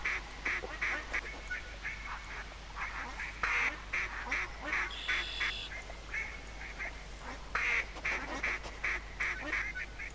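A flock of gadwall ducks in theHunter video game quack and call continuously, overlapping nasal bursts from several birds at mid distance over a steady low hum.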